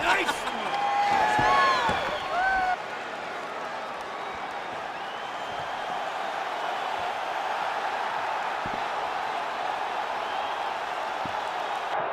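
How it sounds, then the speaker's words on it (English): Arena crowd noise from a capacity audience at a PS5 UFC video game fight featuring Max Holloway: a steady, broad roar of cheering that swells briefly early on, with a commentator's voice heard over the start before the crowd carries on alone. "Max Holloway, ready to make a statement in front of this capacity crowd here tonight"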